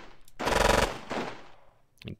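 Falklands wargame night assault on Wireless Ridge: a loud burst of rapid automatic gunfire, then a softer follow-up burst and a brief sharp crack near the end.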